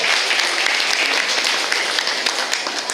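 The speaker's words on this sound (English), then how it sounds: "can you please give a very big round of applause to all of those adults" Students clap together in a big round of applause at a school event, a dense, steady roar of hands lasting the full three seconds with no talk over it.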